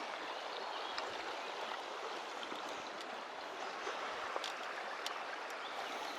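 Steady broadband rush of a river stream flowing without pause, even in level throughout, with no voices.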